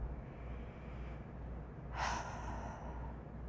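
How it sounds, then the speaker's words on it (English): A single deep breath drawn in with an audible airy rush, short and close, over a steady low background hum, with no talking. "let's take a deep breath"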